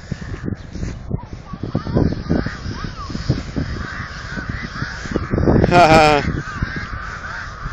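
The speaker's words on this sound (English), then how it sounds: "I want you to run to all the birdies and make them go fly away." Crows or geese caw and honk as a flock is chased into flight outdoors, the calls rising into a loud burst of squawks while a child laughs and people talk and shout over the birds.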